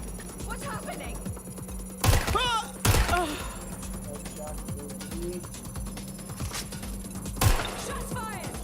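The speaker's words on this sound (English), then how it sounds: "Shots fired!" Gunfire in the video game Watch Dogs: Legion, a few sharp loud bursts near 2, 3 and 7.5 seconds over a steady game soundscape with a low hum, while voices talk in between.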